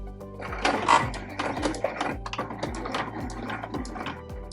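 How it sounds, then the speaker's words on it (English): A sewing machine makes short back stitches at the start of a fabric bread bag seam. It gives a close, rhythmic, clattering run of quick needle strokes with small mechanical clicks. "So I'm going to do a little back stitch at the start here"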